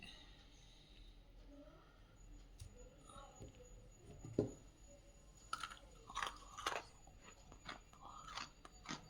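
Crisp homemade jowar flour biscuits are bitten and chewed close to the mic, giving a series of sharp crunches that grow more frequent toward the end over a quiet background.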